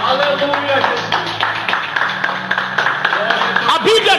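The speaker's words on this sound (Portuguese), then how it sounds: "Palmas para Jesus." Congregation clapping during a Portuguese-language church doctrine service, rhythmic hand claps running steadily under a loud voice and reverberant room sound, with voices and music-like tones blended in throughout.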